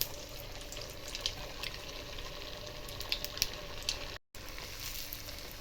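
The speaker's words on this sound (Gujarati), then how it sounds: "હવે તેને તલ પણ લગાવી દીધા છે, તેલમાં એડ કરીશું" Bread and potato tikki coated in sesame seeds fry in hot oil, giving a soft steady sizzle with scattered pops and crackles, fairly quiet and close, with a brief gap near the end.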